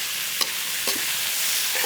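Food frying in a pan over a stove for an Assamese dish, a steady broad sizzle with a few light stirring taps spaced across it, close and even.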